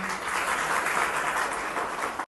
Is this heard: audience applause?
yes